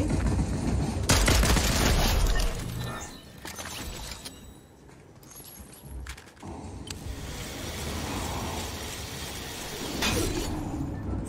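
Gunfire bursts in a Fortnite match, dense loud volleys early on that thin into scattered shots, mechanical clatter and debris over roughly eleven seconds, with voices faintly present.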